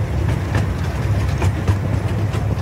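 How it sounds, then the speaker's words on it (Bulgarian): A train rumbles past at Bressingham Steam & Gardens, a steady low mechanical drone with faint rhythmic knocks, moderately close and with no talk over it. "Е, го другия влак."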